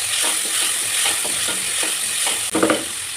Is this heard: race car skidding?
no